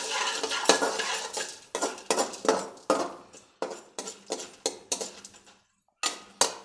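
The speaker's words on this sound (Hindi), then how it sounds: "ये हमने एक थोड़ा सा नमक ऐड कर दिया और उसको दोबारा से जो है वो मिक्स कर दिया इसके अंदर" A spoon scrapes and stirs salt into popcorn kernels in a metal pot, in a steady run of rhythmic, close, fairly loud strokes with brief pauses between them.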